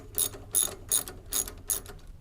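A ratchet wrench loosens the seat base bolts on a RAM ProMaster van during a swivel-seat install, giving five quick, evenly spaced bursts of close metallic clicking with brief pauses between strokes.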